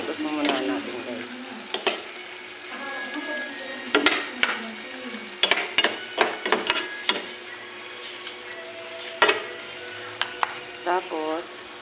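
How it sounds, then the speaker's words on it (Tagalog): Spoon or ladle stirring ingredients in a cooking pot while fish and coconut cream dishes are prepared, giving repeated sharp metallic scrapes and clinks against the pot over a low sizzle, with a person talking between strokes. "Ikos-ikos mo muna natin guys."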